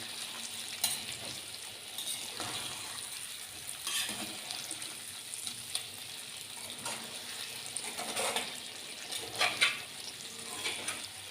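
A stuffed brinjal and potato curry is stirred gently in a pot, with a steady sizzle and soft scraping movements running throughout, no talking.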